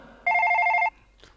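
A telephone ring tone after a call is dialed, one loud electronic two-tone burst lasting about half a second, close and clear, followed by a faint brief rustle.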